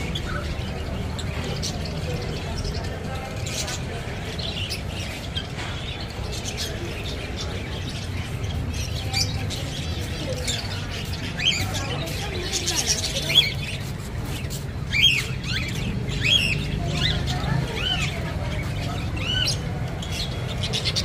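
Many caged birds in an aquarium and pet shop chirp and squawk in a busy, overlapping chatter, moderately loud and continuous, set against a low indoor hum, with people talking at times.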